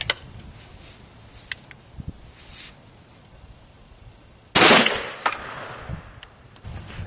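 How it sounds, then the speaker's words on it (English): A single 450 Bushmaster rifle shot fired into a stack of plywood bursts out as a loud, sharp crack with a trailing decay, after several seconds of near quiet broken only by small clicks. "here goes the third shot, just into a stack of plywood"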